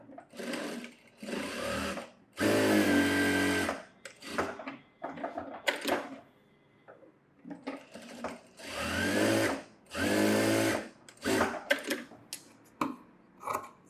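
A tailoring sewing machine stitches a sleeve in several bursts of loud, rapid mechanical whirring, separated by pauses filled with small handling clicks and rustles of fabric.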